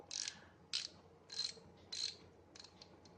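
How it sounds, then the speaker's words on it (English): AIWA socket wrench ratchet mechanism clicking in short bursts, about five quick ratcheting runs spaced evenly, close and fairly quiet with no talk. "So now the ratcheting mechanism feels somewhat right."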